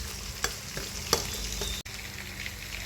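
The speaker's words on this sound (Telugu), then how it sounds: "ఆనియన్స్ పచ్చిమిర్చి వేస్తున్నా ఫ్రెండ్స్ ఇలా ఇలా టెన్ మినిట్స్ ఇలా ఫ్రై చేయాలి ఫ్రెండ్స్" Onions and green chilies fry in a pan with a steady sizzle, broken by a few sharp clinks of a stirring spoon against the pan, for a fish curry.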